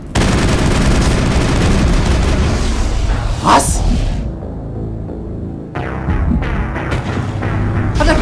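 Dense, loud gunfire in the Mass Effect video game rattles continuously, then drops to a lull and resumes with sharper bursts.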